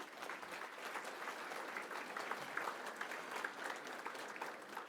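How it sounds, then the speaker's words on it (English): Steady audience applause for poster session participants and award winners at a conference lunch session, a continuous wash of many hands clapping heard from a distance at low level. "Let's give our poster session participants and award winners another round of applause."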